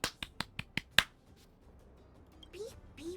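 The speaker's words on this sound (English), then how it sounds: "so golf clap" Six soft, quick golf claps in an even rhythm, close and quiet, followed by a few faint high sounds, during the video game Honkai: Star Rail.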